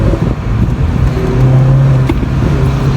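A 2015 Mini Cooper accelerating along a winding road, its engine droning loudly from inside the cabin with a rising tone.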